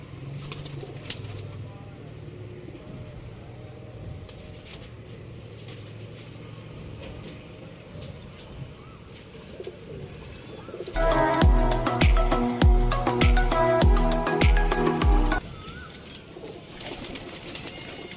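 Pigeons cooing softly nearby, then a burst of loud wing flapping and fluttering for several seconds before the cooing continues.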